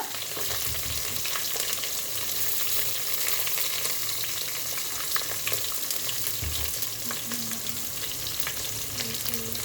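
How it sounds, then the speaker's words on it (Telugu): Dried red chili, onion and crushed garlic fry in hot oil for a drumstick dal, giving a steady, dense sizzle with light stirring throughout, close and continuous with no talking. "కొంచెం ఫ్రై చేసుకోవాలి."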